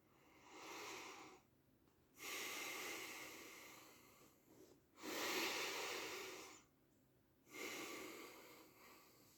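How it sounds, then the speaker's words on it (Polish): A person takes slow, deep breaths in a quiet room, four long audible inhales and exhales with short pauses between them, faint and close. "Oddychajcie głęboko przez chwilę, ja też."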